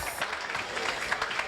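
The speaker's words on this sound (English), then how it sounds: "Give them a round of applause." Audience applause greeting panelists as they come up at an evening event on HIV awareness and Black women's health, a brief steady patter of clapping from a crowd with some voices mixed in.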